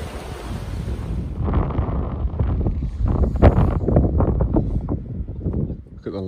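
Floodwater rushes through a woodland in a loud, continuous roar mixed with wind buffeting the microphone, and someone talks over it.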